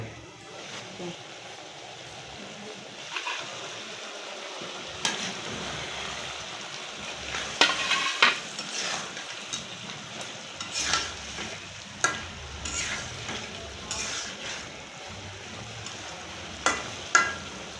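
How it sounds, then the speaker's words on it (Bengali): Giant freshwater prawns, eggs and potatoes are stir-fried in a kadai over a village cooking fire: a steady close sizzle runs throughout, broken by frequent scraping and clacking spatula strokes. "এখন আমরা চিংড়ে মাছ কষাবো চিংড়ে মাছ আর ডিম দিয়ে দেবো কড়াইয়ের ভিতরে"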